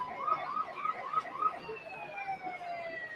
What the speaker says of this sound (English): I hear some sirens.